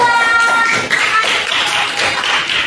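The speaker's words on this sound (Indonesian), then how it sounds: "Tepuk tangan untuk Bapak." Audience applause in a classroom discussion session, a steady dense patter of clapping hands throughout with no talk over it.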